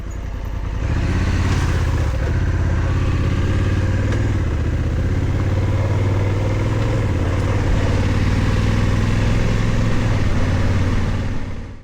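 Honda CRF1100L Africa Twin motorcycle engine, a 2025 DCT model, droning steadily while riding off-road tracks, a loud continuous mid-pitched hum with rough clatter and wind noise throughout.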